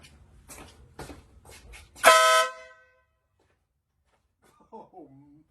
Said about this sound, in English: New horn is installed. Let's see how it sounds.